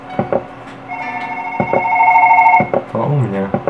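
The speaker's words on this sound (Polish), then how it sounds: "Telefon." A telephone rings in the horror video game One Late Night, its electronic tone repeating as a steady stretch, with someone talking over it and short game sounds at the start and end.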